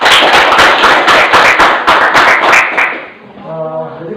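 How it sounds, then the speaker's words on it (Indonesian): A school class claps hands together, loud close rhythmic bursts of clapping for about three seconds, then stopping as a voice begins speaking. "Kasih tepuk tangan ya."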